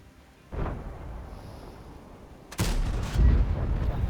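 Tank cannons fire in World of Tanks: a soft distant thump, then a loud, sharp close cannon shot followed by a heavy rumbling blast and a lingering low roar.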